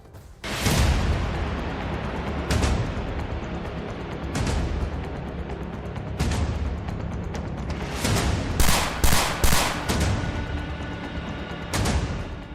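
Gunfire crackles during a Dussehra night in Mumbai amid festival firecrackers, with a series of loud sharp reports, several isolated booms and a rapid cluster of shots near the end, ringing over a constant rumbling din.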